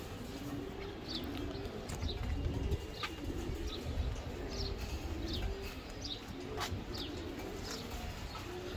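Giribaz homing pigeons give repeated low coos and scattered chirps close by, with some rustling and wing flutter and no voices.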